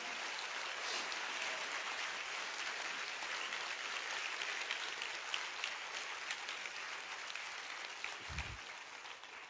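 A congregation at a Christian prayer meeting in Tumsar, Maharashtra, clapping together in sustained, even applause that stays steady for several seconds, heard from a distance and fairly faint.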